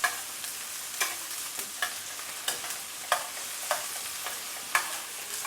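Onions gently sautéing over medium heat in a pan, a soft continuous sizzle broken by regular scraping strokes of a utensil roughly every half second.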